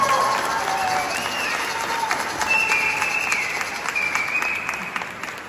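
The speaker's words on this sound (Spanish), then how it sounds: "Un aplauso para ella, por favor." Concert audience at an art museum applauds a performer, sustained clapping with a few cheers and whistles rising above it, continuing without a break across the whole stretch.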